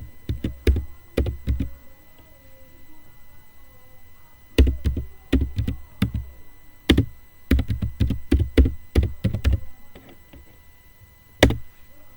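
Commands for a Cisco router or switch configuration are typed on a computer keyboard in irregular bursts of crisp, close keystrokes separated by brief pauses, loud and clear with no talking.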